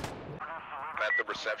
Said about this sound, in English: I'm throwing a rocket at him